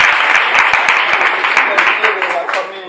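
A church congregation claps together in steady, loud applause, a dense close wash of hand claps with a few louder individual claps, fading slightly toward the end.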